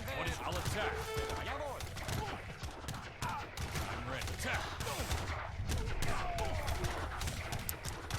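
Dense bursts of booming cannon fire and battle noise from a video game, continuous and loud, with a voice talking underneath.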